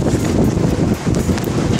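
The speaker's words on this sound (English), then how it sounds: "I think it's a little windy." Steady wind buffets the microphone on an Arctic beach at Jugelfjord, 78 degrees north, a loud, continuous low rushing roar with gusty swells and no voices.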